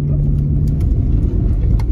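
A lowered Volvo car drives slowly along a rutted dirt road off-road, its engine a steady low rumble close by, with faint knocks and scrapes from the rough ground.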